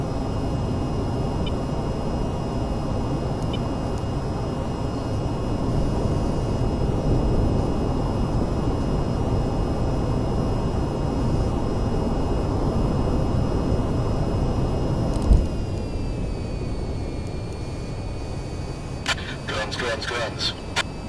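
A steady, droning aircraft engine in the flight game VTOL VR hums continuously for about twenty seconds, with electronic cockpit tones and a few crackling radio bursts near the end, while a player talks throughout.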